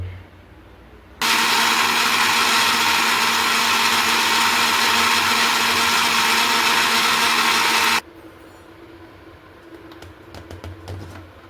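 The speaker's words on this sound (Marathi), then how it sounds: "चला लगेचच मिक्सरला लावून घेऊया" A kitchen mixer grinder whirs at full power for several seconds as it grinds masala for a mackerel fish curry, starting and stopping abruptly over a quiet background.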